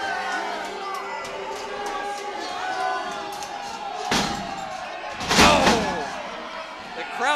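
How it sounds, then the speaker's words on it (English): A wrestler is body-slammed onto the ring mat in a multi-man match, landing with one loud, heavy thud over steady crowd noise. The crowd swells with cheers and shouts moments later. "Oh, throws him down."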